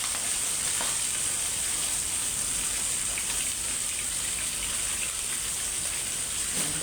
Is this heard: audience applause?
no